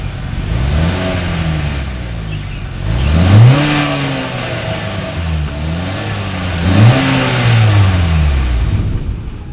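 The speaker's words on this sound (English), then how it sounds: "As always, here is that exhaust clip." Engine of a 2020 Acura RDX revving through its dual exhaust with chrome tips, two strong rising revs about three seconds apart that sweep upward and fall back to a steady idle, close and loud with no talking.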